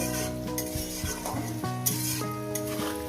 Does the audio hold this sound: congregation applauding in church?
no